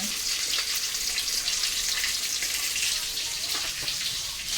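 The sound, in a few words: fish frying in a kitchen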